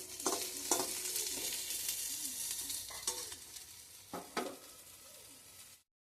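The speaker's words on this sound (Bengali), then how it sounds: "পর এদিকে আমি পটলগুলো ভেজে নিচ্ছি" Pointed gourd slices fry in a pan with a moderate sizzle, broken by several sharp scraping and clinking stirs before the sound cuts off abruptly near the end.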